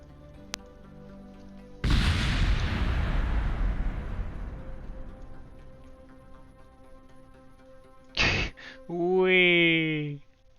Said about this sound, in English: Get ready for some explosions.